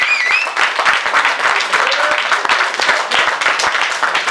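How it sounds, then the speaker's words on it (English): Audience applause and clapping at a talk on the history of Manchester black music, a steady dense patter of hands lasting the whole stretch, with some crowd voices mixed in. "So if I can have a round of applause or something"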